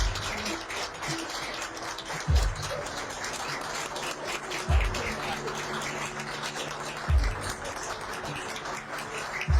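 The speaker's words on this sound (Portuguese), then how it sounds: "E as palmas de hoje" An audience applauds frontline Covid-19 health workers in a steady patter of clapping that carries on for several seconds. Soft dull thumps recur at regular intervals underneath.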